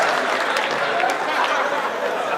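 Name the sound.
audience applause after a proposal at a debate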